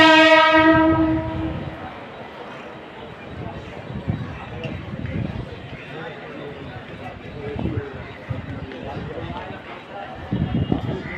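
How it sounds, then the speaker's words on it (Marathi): Mumbai local train pulling into a platform, a loud horn blast opening, then rumbling wheels and station bustle as it arrives, with a public announcement voice talking over the noise. "कल्याणला जाणारी ही लोकल थोड्याच वेळा प्लॅटफॉर्म क्रमांक 1 पर येत आहे।"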